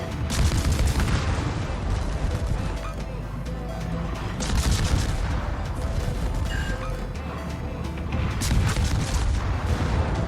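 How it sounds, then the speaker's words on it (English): Warship torpedoes and main guns firing in the World of Warships video game, a continuous barrage of heavy booms and crackling salvos that swells and dips, with a voice faintly talking over the battle. "we'll support him with our torpedoes and our main guns"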